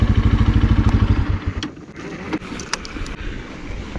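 Motorcycle engine on a rough mountain trail ride, chugging in a rapid, pulsing rhythm that fades after a second or so into a lower rumble with clatter and knocks, loud and close throughout.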